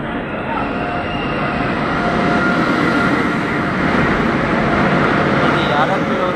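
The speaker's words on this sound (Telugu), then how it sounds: "ఇది అరకులోని ట్రైన్." A train at Araku station, running on the Araku to Visakhapatnam line, gives a loud, steady, continuous rumble from close by with no break.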